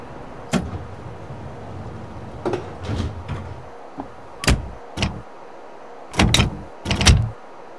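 Train doors on a Chicago Brown Line car in a rail simulation game thump and slide shut, a series of sharp clunks and brief mechanical bursts spaced over several seconds, standing alone without talk.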